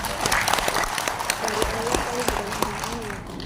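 Audience applause at a school education event, steady clapping from a crowd throughout with a voice talking over it.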